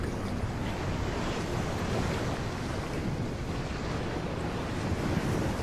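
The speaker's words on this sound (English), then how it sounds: "Stir the pool." Water stirred and swished in a pool inside the VR game The Under Presents: a steady, even rushing wash that fills the whole stretch without a break and with no voices.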